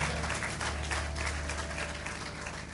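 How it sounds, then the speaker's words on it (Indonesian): Congregation at a church anniversary service clapping together, a dense steady wash of applause that holds evenly at moderate level for the whole stretch, with a low hum underneath. "Yang percaya berikan tepuk tangan buat Tuhan"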